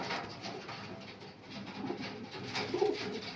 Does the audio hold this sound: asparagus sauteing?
no